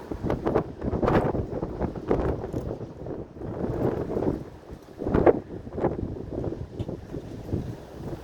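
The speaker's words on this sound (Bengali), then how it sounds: "বাতাসটি হেলে দুলে চলছে" Gusty wind buffets the microphone in uneven, rumbling bursts that swell and fade, close and loud, with no voices.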